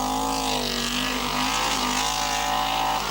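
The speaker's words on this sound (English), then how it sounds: "And this number 25 is Asa Kotola with the Audi 80 Quattro, the four-wheel drive version." An Audi 80 Quattro four-wheel-drive rally car at a 1985 rally passes close by, its engine roaring loud and steady with a sustained high-revving tone throughout.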